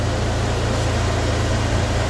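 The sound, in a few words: swapped Honda K20Z4 engine idling in a Civic EJ9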